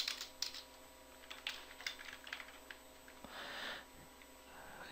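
Keystrokes on a computer keyboard, tapped in short irregular bursts while working in Blender, fairly close and moderately loud, with no talking over them.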